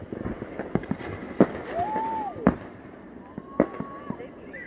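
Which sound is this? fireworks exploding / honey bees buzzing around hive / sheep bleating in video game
fireworks exploding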